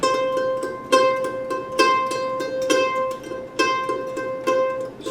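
Mandolin played with a triplet tremolo picking pattern, strong accents falling on the first note of each group, giving a steady galloping pulse of bright plucked notes, close and alone.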